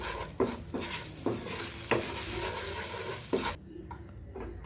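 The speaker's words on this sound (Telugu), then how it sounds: "తగినంత సాల్ట్ కొంచెం గరం మసాలా పౌడర్ అండి ఇవి బాగా ఒకసారి నూనెలో వేపాలి" Salt and garam masala frying in oil for paneer makhani, a steady sizzle with several sharp stirring scrapes of a spoon against the pan, close and loud, ending in a quieter hiss.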